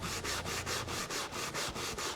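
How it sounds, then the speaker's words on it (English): A homemade sanding block made from a 2x4, with sandpaper held by binder clips, rubs back and forth over wood in a steady, loud, even rhythm of about eight strokes with no voices. "And just like that, you have an automatic sanding block."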